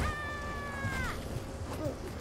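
A cat meows in the South Park Snow Day video game: one long, clear, drawn-out meow up front, then a brief softer mew a moment later, over a low background bed.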